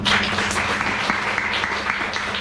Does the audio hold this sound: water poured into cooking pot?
no